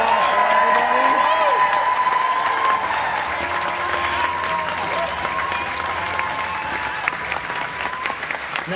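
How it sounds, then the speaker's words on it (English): Audience applause and cheering for the contestants of a cosplay contest at Silicon Valley Comic Con 2018, a loud, steady wash of clapping with scattered whoops sustained throughout. "Let's give a big round of applause for everybody."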